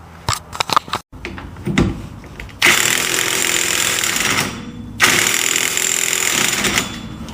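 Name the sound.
36 mm socket on Jeep Cherokee XJ wheel hub nut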